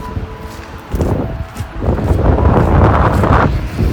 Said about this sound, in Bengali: প্রচণ্ড ঠান্ডা ঠান্ডা হাওয়াও বলছে